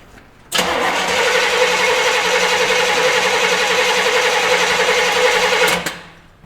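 With its ignition unhooked, the engine of a 1970 Chevelle is cranked over by the starter for about five seconds, a loud, close, steady whirring churn that starts abruptly and stops without the engine firing.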